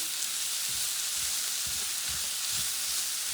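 Sliced mushrooms and onions fry in a pan, a constant loud sizzle with a few soft stirring scrapes underneath, close by and without talk.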